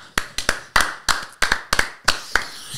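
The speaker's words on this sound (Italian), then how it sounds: "Applausi." Slow, uneven hand claps, about a dozen sharp smacks spaced irregularly, close and fairly loud with nothing else behind them.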